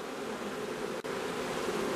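Honeybees fly around an opened hive, a dense steady buzzing hum close by, with a brief dip midway.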